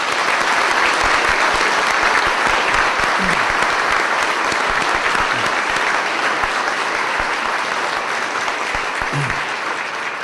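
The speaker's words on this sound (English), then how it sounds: "Please give a warm round of applause to Daphne Sandoval." A warm round of applause from the audience at a hometown heroes awards breakfast honouring an award recipient, loud sustained clapping from many people at an even level throughout.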